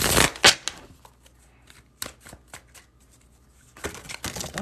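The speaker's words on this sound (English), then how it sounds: "I'm going to reshuffle" Tarot cards are shuffled by hand in quick riffling bursts, loud at the start and end with softer taps and flicks in between, close up and without speech.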